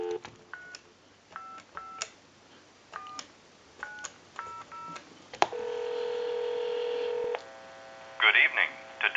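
A rapid series of keypad tones from a Microtel 202 telephone beeps out a number, followed by a sustained tone and then the start of ringing or a connecting signal.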